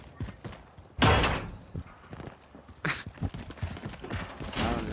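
A door slams shut inside a Call of Duty: Modern Warfare match, with two loud, sharp bangs about two seconds apart over busy background game noise.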